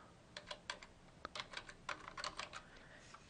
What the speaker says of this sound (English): put the quantity that you want and type in the number